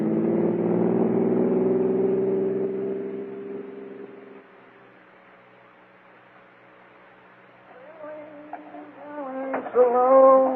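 A car engine hums steadily through an old radio drama, fading out midway before other sounds and a voice return near the end.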